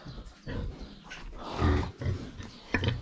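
Pigs and piglets grunt in short, uneven bursts close by, several snorting grunts in a row with brief pauses between them, while being weighed.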